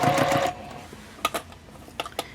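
A sewing machine runs a rapid stitching burst along the first side seam of a drawstring tote bag, then stops. A few sharp clicks and taps follow, close by, with no talking.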